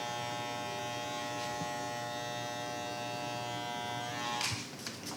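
Electric hair clippers trim a fade haircut with a steady, close-up buzz. Near the end, a few brief scraping rattles break the buzz as the blades move through the hair.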